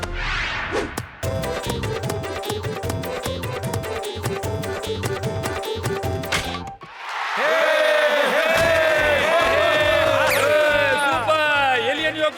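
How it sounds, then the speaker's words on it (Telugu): A cartoon crowd cheers and whoops loudly as a cricket wicket falls, preceded by a rhythmic musical passage, the excited voices swelling and continuing to the end. "అందరూ ఎంత హాయిగా చప్పట్లు కొడుతున్నారో చూడండి"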